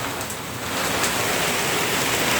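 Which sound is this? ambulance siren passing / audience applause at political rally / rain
rain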